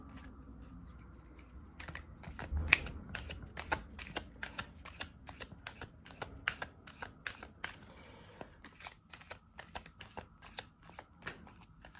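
A deck of tarot cards being shuffled before a card is pulled, a long run of rapid, crisp riffling and slapping close up, repeated in quick bursts.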